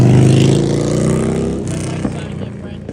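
A car's engine drones steadily as it drives past at street speed, loud at first and then fading while someone talks over it.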